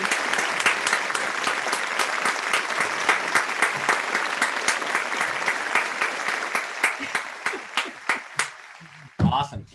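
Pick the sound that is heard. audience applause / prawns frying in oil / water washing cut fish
audience applause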